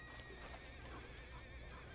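A horse in the Red Dead Online video game neighs and whinnies loudly and close, with clip-clop hoofbeats and dense game ambience running underneath for the full two seconds.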